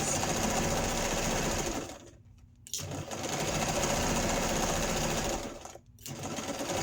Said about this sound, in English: sewing again at just 1/4 inch, all the way around, making sure those top edges meet